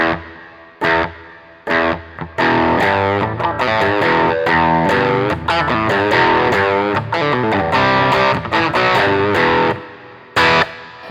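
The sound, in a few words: guitar with reverb effect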